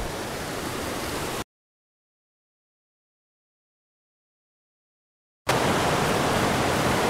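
The Santa Cruz River in New Mexico rushes with a constant broadband roar heard close by on a hiking trail, cutting out abruptly to total silence for several seconds before returning just as loud.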